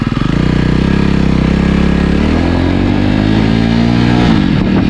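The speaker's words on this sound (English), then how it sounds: "here you can listen the sound of engine, silencer, twin exhaust of this customized silencer" A 2020 Jawa Perak motorcycle with a customized twin exhaust rumbles loudly and steadily, its deep twin exhaust note rising as it revs up and pulls away in first gear, with no talking.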